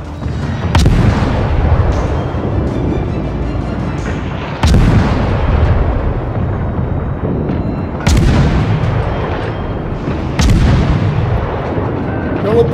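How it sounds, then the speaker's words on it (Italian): Naval guns thunder in the warship battle game World of Warships, with four heavy, booming salvos several seconds apart, each followed by a rumbling tail over a constant roar of battle. "mi stanno sparando"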